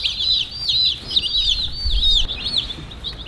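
Meat chicks in a full brooder box chirp constantly, a dense flock of high peeping calls overlapping close by, with soft rustling and fluttering underneath.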